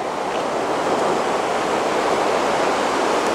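Water rushes through a canal lock as it drops several metres, a loud, steady, broadband roar that holds unchanged throughout, with no voices.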